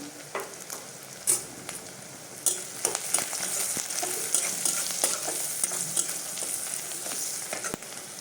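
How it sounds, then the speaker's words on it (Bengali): Onions fry in a pan with salt and turmeric, giving a continuous close sizzle broken by irregular scraping and clacking of a spatula as they are stirred. "পেঁয়াজটা ভাজা হয়ে গেছে"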